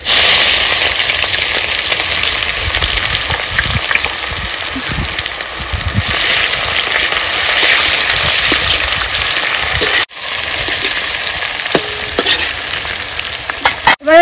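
Chopped onions fry in hot oil with dry red chilli, bay leaf, cumin and whole garam masala for a village-style mutton curry, a loud continuous sizzle with stirring scrapes throughout and no talking.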